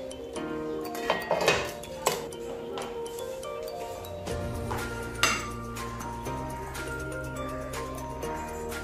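A metal spoon clinking and scraping against a plate while chicken pulao is served, a few sharp clinks early on then lighter taps and scrapes, close and clear over a faint background hum, no talking.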